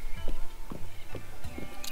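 Hooves clip-clop at a walking pace on a horse in Zelda: Breath of the Wild, four evenly spaced, fairly close thuds with a faint game ambience behind them.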